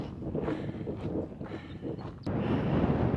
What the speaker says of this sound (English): The wind is really cold